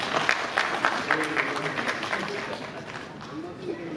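An audience at a stage event for Malikappuram, 2018 and Chaver with Mammootty claps in a moderately loud burst of applause that gradually thins out. A voice talks over the clapping.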